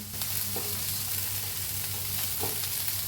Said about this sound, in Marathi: तेल घालून भाजून घेऊया आणि जरा मस्त असा कांदा आणि खोबरं भाजले लालसर होतं